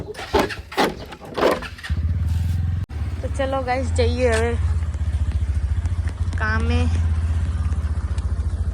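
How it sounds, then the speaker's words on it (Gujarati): A motorcycle engine starts up and settles into a steady, close running rumble that continues to the end, with a person talking over it. "બાઈક કાઢી લે એટલે જઈએ"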